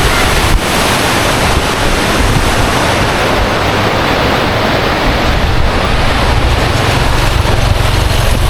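Loud, continuous rushing river water along Kennon Road with a broad roar and some wind buffeting on the microphone, steady for the whole stretch.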